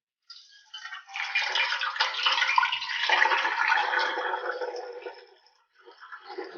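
Water pours steadily into a cooking pot set up for steaming a Lahori chargha chicken, a continuous splashing rush lasting about five seconds before tapering off, close and fairly quiet.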